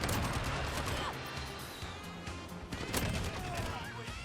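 Rapid gunfire from an FN SCAR 17 battle rifle in a Modern Warfare online match, dense overlapping shots and crashes sustained for several seconds, with a voice mixed underneath.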